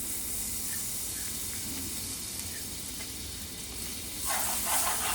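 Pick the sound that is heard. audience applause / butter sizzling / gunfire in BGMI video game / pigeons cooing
butter sizzling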